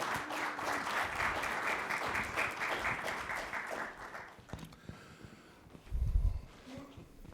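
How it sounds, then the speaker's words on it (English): Audience applause for a panel at a tri-county summit, a dense sustained clapping that fills the room for about four seconds, then fades into quieter shuffling and a low thump. "Let's give them all a round of applause for taking a busy time."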